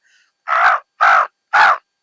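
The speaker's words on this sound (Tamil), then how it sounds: "உங்கள் வீட்டு பக்கத்தில் வந்து காக்கா மாதிரி கத்துவாங்க" Three loud, close crow caws in an even rhythm, each harsh and drawn out, following a faint call at the start.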